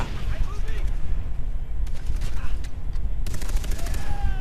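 Gunfire in the island shooter Far Cry 3 crackles in rapid bursts and single shots, loud and close, over a dense game soundtrack with someone talking over it.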